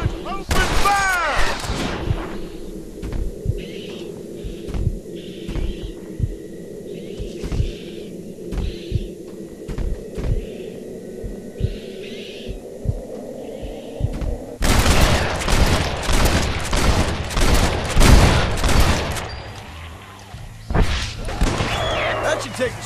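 Gunfire in the video game Red Dead Redemption: Undead Nightmare, repeated sharp shots spaced through the scene that become a dense, rapid volley of blasts toward the end, over a low droning game soundtrack.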